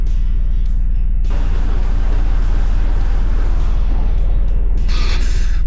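A virtual car's engine idles in the game Car Mechanic Simulator 2018, a loud, steady low rumble and hiss that runs throughout with no pauses.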